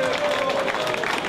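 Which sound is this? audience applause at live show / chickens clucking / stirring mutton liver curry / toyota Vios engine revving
audience applause at live show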